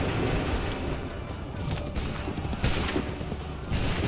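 Musket volleys firing in Assassin's Creed 3: repeated booming volleys with a continuous crackle of shots, each burst flaring loudly every second or so over a busy battlefield din, with shouted commands faintly present.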